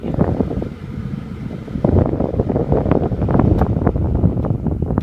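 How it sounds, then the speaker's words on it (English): Air conditioning in a 2004 Ford F250 diesel pickup blows a steady broadband whoosh of air inside the cab, continuous and close, growing slightly stronger partway through. "Air's blowing nice and cold."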